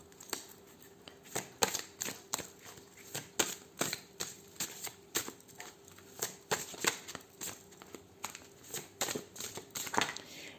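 Oracle cards shuffled by hand in a quiet room, a long run of crisp riffling and slapping bursts in an uneven steady rhythm, close and clear with no talking.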